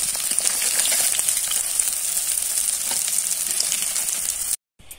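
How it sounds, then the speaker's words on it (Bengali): Fish frying in hot oil, giving a loud, continuous crackling sizzle close by that runs almost the whole time and then cuts off abruptly near the end. "মাছগুলো ভাজা হয়েছে, একে একে তুলে নেব"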